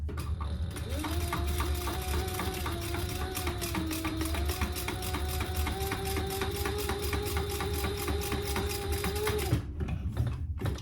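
A sewing machine runs a steady row of stitches along a zip pouch, its rapid needle clatter close and continuous with a whining motor hum, then stopping near the end.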